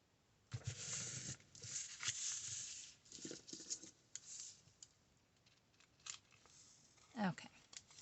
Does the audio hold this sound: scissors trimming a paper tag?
yes